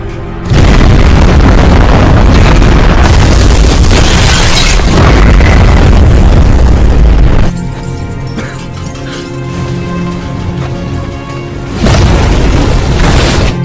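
A film explosion roars as loud, dense booming blasts with a heavy low rumble, continuing at length and then dropping into a slightly quieter rumble before another big burst.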